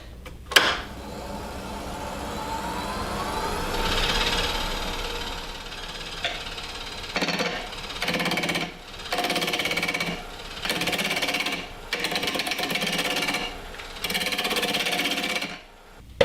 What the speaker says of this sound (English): I'm just going to take the roughing gouge and true it out first.